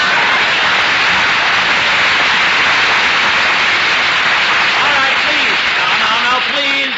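Studio audience applause during an old-time radio comedy show, a dense sustained wash of clapping from a large crowd, with a voice starting to speak over it near the end.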